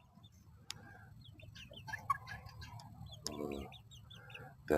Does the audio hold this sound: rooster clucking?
yes